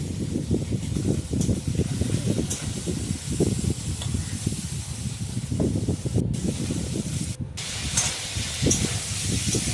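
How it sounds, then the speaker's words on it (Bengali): Fish fry in a kadai with a loud, continuous hiss and spitting sizzle heard up close, dense and steady throughout with small crackling pops scattered through it. "মাছগুলো আমি কড়াইতে এবার দিয়ে দিই, একদম হালকা হালকা করে ভাজবো"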